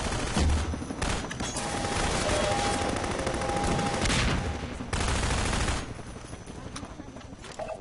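Sustained gunfire in Half-Life 2: Episode Two, dense bursts running nearly the whole stretch under a voice, with a steady tonal whine partway through before the shooting thins out near the end.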